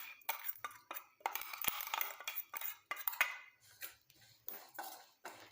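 Curry leaves, fenugreek and black cumin are stirred while roasting in a pan over a low flame, producing intermittent metallic scrapes and light clinks of the spoon against the pan in irregular bursts.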